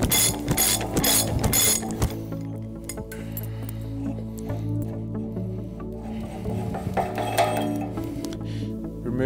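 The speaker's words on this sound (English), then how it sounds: "Then we remove the castellated nut." Ratchet wrench loosening a castellated hub nut while a unitised wheel bearing is being changed, with rapid clicking bursts at first, then a continuous mechanical rattle throughout, loud and close.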